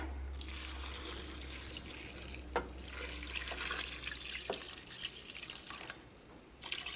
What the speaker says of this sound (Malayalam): അപ്പോൾ വെള്ളം ചേർക്കട്ടെ.